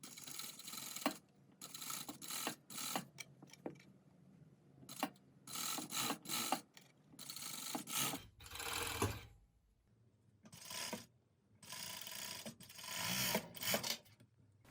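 A 4-thread overlock serger runs along a fabric edge for a hoodie in short, rapid mechanical bursts, each whirring run separated by pauses and small handling clicks, heard close with no talking.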